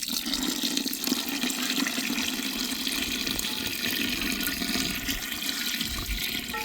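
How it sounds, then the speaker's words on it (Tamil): Water poured into goat curry masala in a cooking pot, a continuous gushing, splashing pour that stays steady and close throughout, with no talking. "கறி மசாலாவும் முழுகிற அளவு தண்ணி சேர்த்துக்கிறேங்க"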